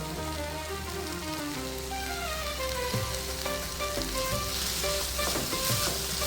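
Curry leaves dropped into hot oil for a chicken and grated coconut dish, giving a crackling sizzle that swells toward the end, close up with no talk.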